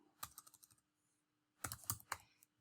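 Quick bursts of key taps on a computer keyboard, a short run of clicks, a pause, then another cluster of typing, close and fairly quiet with no voices.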